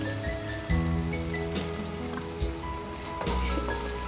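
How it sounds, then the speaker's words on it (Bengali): Onions frying in oil with cloves, cinnamon sticks and cardamom pods for Dhaka restaurant-style bhuna chicken khichuri, a dense, steady crackling sizzle like rain, close and continuous, with a few louder stirring bumps. "পেঁয়াজের সাথেই এটা ভাজতে হবে"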